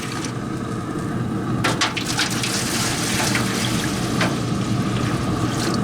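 Warm water poured into a smoker makes a steady, close splashing gush throughout, with a few sharp knocks and clatters partway through.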